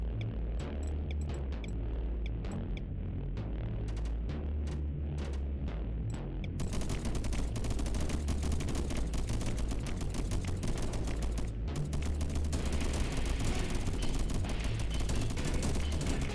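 Rapid crackling gunfire rattles on steadily from units under attack in the strategy game Deep Among the Swarm, a busy stream of shots over a low throbbing background that grows denser partway through.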